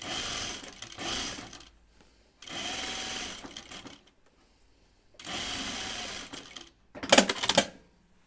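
A sewing machine runs an easing stitch on a Kelly anorak in three steady, close bursts of even motor whir separated by short pauses, ending in a louder clattering run.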